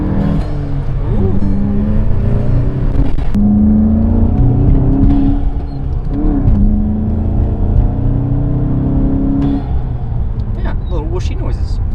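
A Volkswagen Mk7 GTI fitted with an Integrated Engineering cold air intake runs on a very cold night in Utah. The engine drone is steady and loud, with rising and falling intake whooshes as the revs shift.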